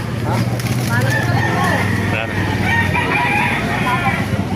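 A gamecock crows loudly nearby at a poultry farm over ongoing outdoor background noise, with other chickens around.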